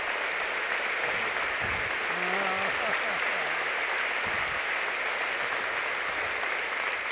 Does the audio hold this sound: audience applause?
yes